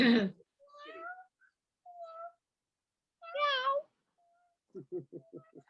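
A house cat meows repeatedly in short separate calls, some drawn out and wavering, close and clear between silences, ending with a quick stuttering run of chirps.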